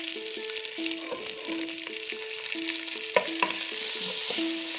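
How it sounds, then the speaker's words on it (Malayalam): Curry leaves crackle and sizzle in oil in a pot for Manjali biryani, a close, continuous frying hiss with a couple of sharp stirring knocks and a musical tone running underneath. "ഇനി നമുക്ക് ഈ എണ്ണയിലേക്ക് കുറച്ച് കറിവേപ്പില ചേർത്തോളാം"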